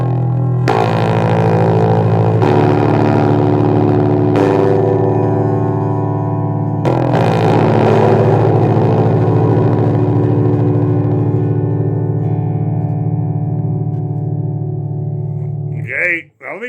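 A Dean DGB MLBX vintage bass guitar plays through passive pickups turned all the way up, giving loud, sustained low notes with several sharp new attacks and a rattly, buzzing edge before it cuts off at the end.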